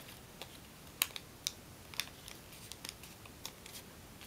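Paper being creased and folded for an origami hummingbird, with a series of short, crisp taps and rustles spaced irregularly, close and fairly quiet, no talking.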